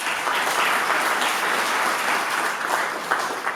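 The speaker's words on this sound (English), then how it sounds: "Please give them a round of applause." Audience applause for public safety workers at a 2024 State of the City address, a dense, sustained clapping from a large crowd that holds steady and begins to thin near the end.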